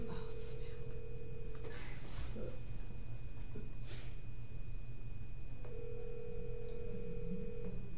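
A telephone call on speakerphone rings out as two long, steady ringback tones, one at the start and one near the end, over a hissy line with faint voices in the background.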